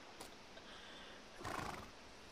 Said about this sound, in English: Where did the horse come from?